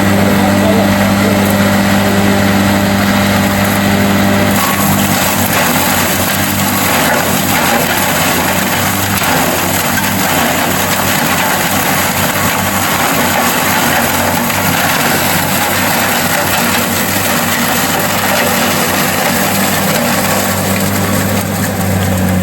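A powerful motor of a universal crusher (drabilka) runs steadily, a loud continuous hum and drone with no pauses, heard close and alone.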